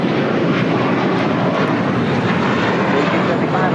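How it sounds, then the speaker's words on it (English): Loud, steady engine roar from an American Airlines Airbus A321 jet taking off at LAX, filling the whole stretch as a continuous broadband rush, with voices faintly underneath. "753 taking off to Atlanta on an A321"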